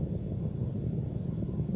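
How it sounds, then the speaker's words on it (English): Space Shuttle Endeavour's three engines roar at full throttle during launch, a steady low rumbling drone heard from a distance with no break. "3 engines on Endeavour now back at full throttle."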